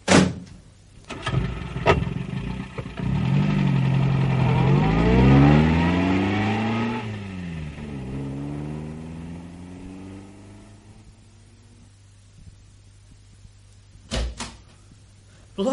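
An old car's engine starts after door clatter, then revs and pulls away. Rising and falling engine harmonics build over several seconds, then fade as it drives off, with a couple of door-like knocks near the end.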